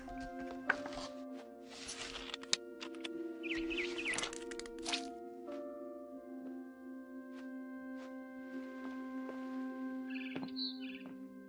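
A barn swallow's chirps in the video game What Remains of Edith Finch, brief high calls over a steady low hum and game ambience, with a soft burst of tweets near the end.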